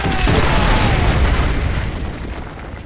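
Artillery strike explosions in Call of Duty Modern Warfare 2 roar loudly throughout, a dense rumbling blast wash with deep booms that slowly fades.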